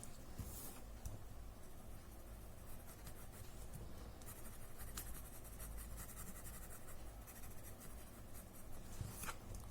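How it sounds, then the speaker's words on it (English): Graphite pencil shading inside the sections of a lacy Zentangle tile: soft, continuous close scratching of pencil on paper with small repeated strokes and faint background noise, no voices. "so slowly add graphite in the inside of these sections."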